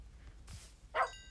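Short soft yips and barks from tamed wolf dogs in the Minecraft video game, one quick faint bark followed by a louder clipped yelp, brief and alone.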